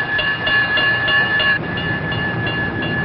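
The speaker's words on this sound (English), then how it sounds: "We ride about 3 or 4 trains a day through here." A train passes through the small southern town of Farmville, Prince Edward County, in 1965. It gives a steady rolling rumble with a sustained tonal ring, heard alone in thin, old-film-quality sound.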